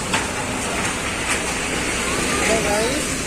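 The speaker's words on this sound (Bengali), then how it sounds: "আমাদের এখানে বৃষ্টি হচ্ছে খুব।" Heavy rain pours down in a dense, constant hiss that stays loud and even throughout the short stretch.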